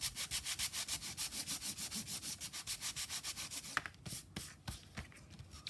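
Paper tag for a junk journal rubbed by hand to distress it, a fast, regular scratchy rubbing of about five strokes per second, close and fairly soft, then slowing into looser, uneven strokes.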